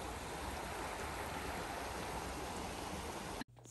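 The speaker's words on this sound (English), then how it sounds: "Here's some more of the famous Minneapolis waterfall," Minneapolis's famous waterfall roars with a dense, constant rush of falling water, loud and unbroken, before cutting off abruptly near the end; no voices.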